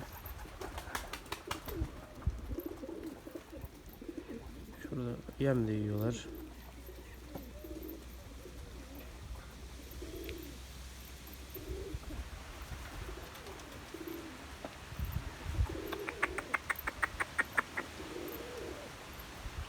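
Pigeons coo softly in repeated throaty calls amid outdoor ambience while pecking at purslane, with a person speaking briefly and some flapping and rustling nearby.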